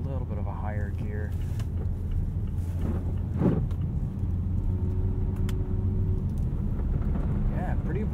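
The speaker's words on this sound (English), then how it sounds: "We're just cruising down the road with no drama." Steady road drone and low rumble from inside a 2018 Mazda CX-3 cruising a winter highway, even tire and engine noise throughout with someone talking over it.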